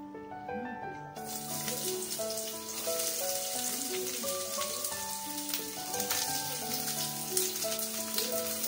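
Sliced onions and green chillies sauté in a pan with a steady, close sizzle that runs throughout beneath background music.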